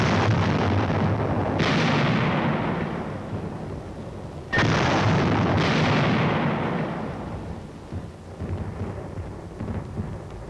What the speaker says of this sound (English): Surface and air bursts clear the way for the riflemen